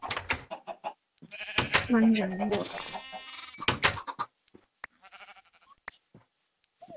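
Sheep bleat in Minecraft inside a large pen, the short wavering cries rising among clicks and game noises while someone talks in Italian over much of the scene.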